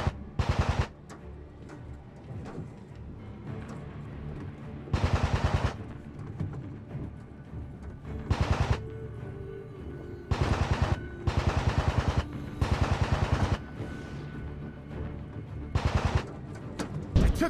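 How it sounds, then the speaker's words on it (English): Machine gun fire in a World War II VR video game, coming as repeated short, loud bursts of rapid shots separated by gaps of quieter background. "Machine guns ready."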